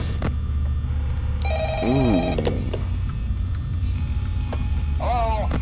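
A telephone rings in the Five Nights at Freddy's video game, a steady electronic ringing tone repeating over a constant low hum with no voices.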